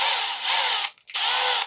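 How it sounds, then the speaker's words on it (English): A step drill bit re-drills slightly misaligned rivet holes in a 1966 Chevrolet C10, whining in two loud, steady bursts split by a brief pause, close up with no talking. "drill those holes again to help line them up."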